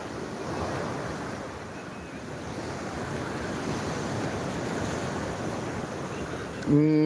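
Rough sea surf breaking on Old Digha beach at night, a continuous dense wash of waves with wind noise, fairly loud and steady, ending in a brief tonal sound.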